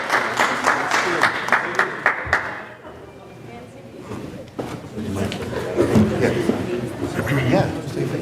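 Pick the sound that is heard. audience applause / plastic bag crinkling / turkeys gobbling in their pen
audience applause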